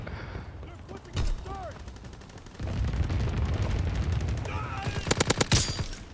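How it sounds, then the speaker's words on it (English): Grease Gun submachine gun fired in Call of Duty: WW2, with rapid automatic bursts over a busy battlefield backdrop of distant gunfire and effects, ending in a loud, close string of sharp shots. "this grease gun ain't no joke, bro"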